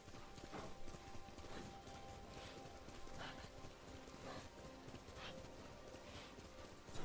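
Horse hooves clip-clopping in the video game Ghost of Tsushima, a steady run of faint, close hoofbeats over a soft background of ambient game sound.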